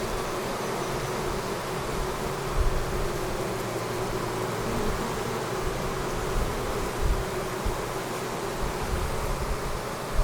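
A dense swarm of honey bees buzzes steadily around a hive, a continuous, close, even drone with no voices.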